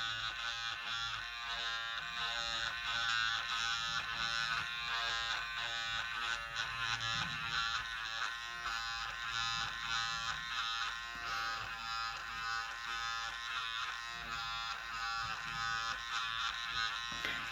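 A Skinvigorate Sonic facial massager buzzes steadily and fairly loudly throughout, a continuous electric hum with no breaks and no talking.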